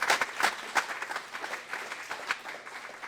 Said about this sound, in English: Let's give ReliQuest a round of applause.